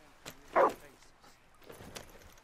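One short dog bark in the video game Red Dead Redemption 2 stands out amid quiet background noise and faint movement sounds.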